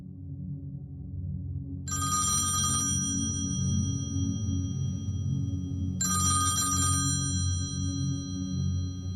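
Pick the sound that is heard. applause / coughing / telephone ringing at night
telephone ringing at night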